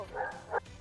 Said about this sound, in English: Someone hush the doggy up.